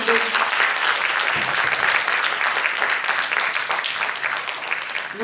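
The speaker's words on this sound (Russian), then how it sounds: "ему отдельные аплодисменты" An audience at a Russian saxophone quartet concert applauds, dense and steady clapping filling the hall at close range for the whole stretch without a break.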